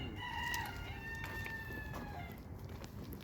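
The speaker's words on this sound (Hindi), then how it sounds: "मुर्गे भी बोलने लगे थे, मॉर्निंग होने लगी थी" Roosters crowing at dawn near parked cars, several drawn-out calls rising and falling over steady background noise, moderately near but not loud, with no talk.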